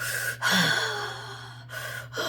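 A voice imitates loud raspy breathing, two or three harsh drawn-out breaths with a gasp-like catch, close and alone.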